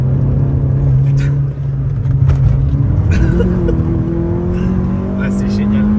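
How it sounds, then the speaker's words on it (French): A Peugeot 106 S16 rally car with its catalytic converter refitted holds a loud, steady exhaust drone that climbs in pitch as the engine revs up toward the end, close by and continuous. "Le son est hyper cool, vraiment hyper agréable au niveau de l'échappement."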